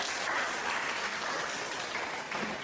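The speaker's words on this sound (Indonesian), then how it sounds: "Mari kita beri aplaus." A classroom audience applauds at the end of a teaching presentation, steady dense clapping at moderate distance with no voices.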